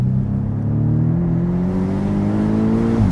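Porsche 718 Boxster GTS engine pulling hard on an open road with the roof down, a loud continuous growl rising steadily in pitch as it accelerates, then a brief drop at the end.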